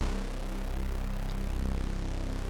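Three layered, slightly detuned oscillators in the Vital synthesizer, producing a full, buzzy chord with slow pulsing beats, sustained alone for a couple of seconds.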